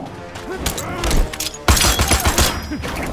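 Gunfire from the fighting video game Mortal Kombat X, with Erron Black against Leatherface, comes as loud, dense rattling bursts mixed with heavy impact thuds and crashes, and a voice cuts in over the blasts.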